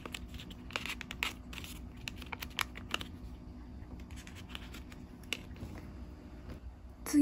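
Origami paper being folded and creased into a carp streamer, with soft scattered crinkles and taps close by over quiet room noise.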